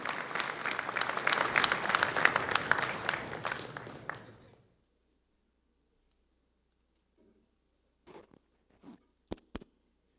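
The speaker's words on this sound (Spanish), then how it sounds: "don Pedro Pablo Kuczynski damos un fuerte aplauso, señores autoridades." An audience at a national congress of Peru's municipal association applauds the president with dense, loud clapping for about four seconds. It then fades into silence, broken only by a few faint knocks and taps.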